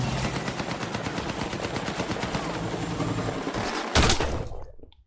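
Sustained rapid machine-gun fire in Battlefield, a continuous rattling stream of shots for several seconds, then a sharp louder blast near the end before the sound cuts away to quiet.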